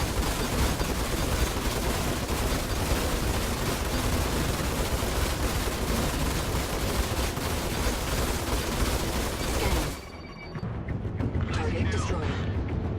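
Star Citizen space combat with dense, continuous weapon fire and heavy blasts that cut off abruptly near the end, leaving a quieter mechanical hum; a voice talks over parts of it.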